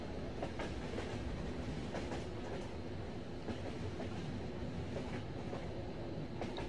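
Train ride in the video game Yume Nikki: a steady, continuous rumble of a moving train with faint rhythmic clickety-clack of wheels on rails, even and unbroken throughout, with no talking.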